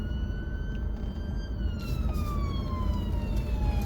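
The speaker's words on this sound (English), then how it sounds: "2 minutes, we've got an ambulance coming through here" An ambulance siren wails as it passes through a street, its falling tone sweeping downward over steady traffic rumble, fairly distant and without talk.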